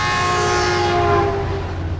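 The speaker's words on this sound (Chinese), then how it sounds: "杨， 我哋到咗火车站啊" A train sounds a loud, sustained horn at a railway station, ringing close and strong before fading slightly, with rumbling rail noise beneath.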